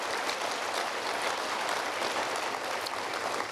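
An audience at a university hall of fame induction ceremony claps steadily for several seconds, a dense, even wash of applause with no voices over it.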